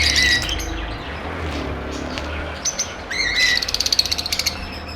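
Parblue splitino lovebirds chirping in a shop or aviary, a run of quick high tweets and short squawks near the end, over steady background noise.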